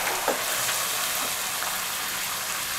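Papaya and potato cubes sautéing in a pan for a mixed vegetable dish: a soft, even hiss of frying running throughout, fairly quiet and steady with a faint stir near the start.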